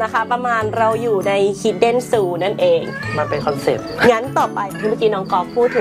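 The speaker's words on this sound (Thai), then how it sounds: "เราจะได้ยินเสียงแมวร้องตลอดเวลาแล้วก็จิ้งหรีด" Cats meowing at the Hidden Zoo, with repeated drawn-out meows mixed in and partly masked under continuous close conversation between women, plus a faint tinkling in the background.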